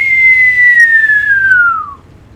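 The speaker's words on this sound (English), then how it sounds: "the artillery shell should be coming" An incoming artillery shell in a video game whistles alone for about two seconds, a loud steady tone sliding gradually downward in pitch before cutting off, with no explosion following.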